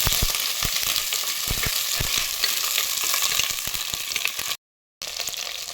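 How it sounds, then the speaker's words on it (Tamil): Brinjal sautéing in sesame oil in a clay pot gives a loud, steady sizzle, with repeated low knocks of stirring and a brief dropout near the end. "கத்திரிக்காயை நல்லா வதக்கிக்கலாம்"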